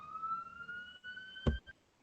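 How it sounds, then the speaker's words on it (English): Police siren wailing in a steady rising tone that holds then cuts off, followed by a sharp thump or click near the end, fairly faint and without talk. "Sorry, who's got the siren?"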